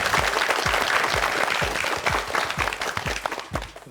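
Studio audience applause on a Korean TV quiz show, a dense clapping wash with a rhythmic low thumping beat underneath, fairly loud and fading slightly toward the end.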